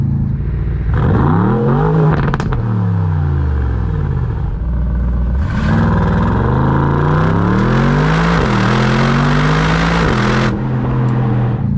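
Aston Martin DBX S SUV engine revving through its sport exhaust, loud rising and falling throttle sweeps with deep roar, pops and a sharp rise near the end, heard close with no talk.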